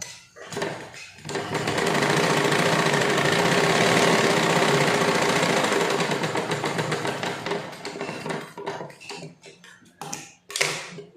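A sewing machine stitches a four-tuck blouse in a loud, steady run of about six seconds, followed by short stop-start bursts and handling clicks.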